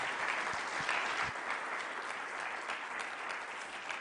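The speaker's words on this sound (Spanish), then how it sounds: "Yo les pido un aplauso a todos los panelistas" A room of audience members applauds the panelists at the close of a panel on social responsibility, steady dense clapping holding evenly throughout without voices.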